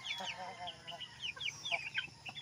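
Zampen native chickens, an inbred flock in the Zamboanga Peninsula, cluck and chirp in short, scattered calls over quiet farmyard background, fairly faint and intermittent.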